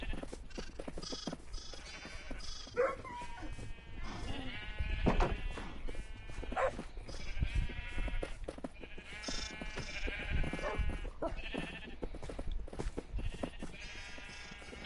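Sheep in Minecraft bleat over and over in a steady, busy chorus throughout, fairly close and clear, with no speech over them.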